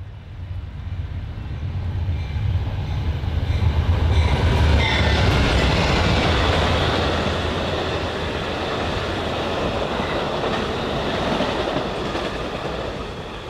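BNSF Metra commuter trains pass on the track with a loud, steady roar and rumble that swells, peaks, then eases slightly, with rail clatter running through it and no voices.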